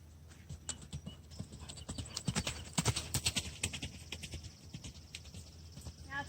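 Horse trotting around a round pen during free lunging, hoofbeats clopping in a steady quick rhythm at moderate distance, with faint background noise and no talk.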